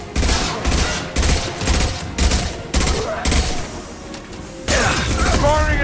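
Bursts of impact-shot gunfire in the video game Mass Effect 2, a rapid series of loud, sharp volleys separated by brief pauses, with game voices calling out over the combat.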